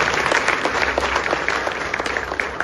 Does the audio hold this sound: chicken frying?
no